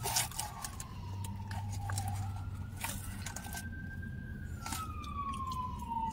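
A fire truck siren passes by, its wailing tone rising and falling over low road rumble, moderately loud throughout.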